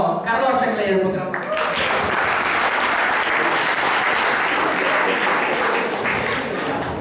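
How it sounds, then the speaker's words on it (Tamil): An audience breaks into loud, sustained applause at a Tamil singing show, starting after a short spoken introduction and filling the rest of the moment. "ஸோ எல்லாரும் கரகோஷங்களை எழுப்புகிறோம்."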